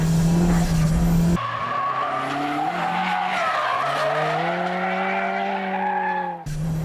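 A tuned car drifting through a corner with its tires skidding, a loud sustained squeal that bends in pitch over a revving engine, alone and close throughout.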